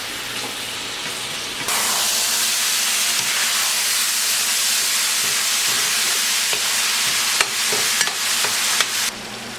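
Ground beef browning in a pan on high heat gives a loud, steady sizzle and hiss that holds nearly unbroken, with a few faint stirring scrapes and no talking.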